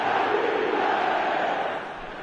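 A big stadium crowd in an eFootball match roars and chants in a steady, loud wash of voices that eases slightly near the end.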